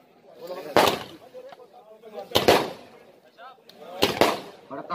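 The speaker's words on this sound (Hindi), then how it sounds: "और पटाखा छूटा" Firecrackers burst during a kabaddi final between Rajasthan Police and Vande Mataram Jaipur, three sharp loud cracks spaced evenly apart, under continuous commentary.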